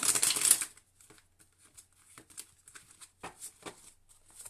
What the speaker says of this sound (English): I feel like I need to just give this a little bit more of a shuffle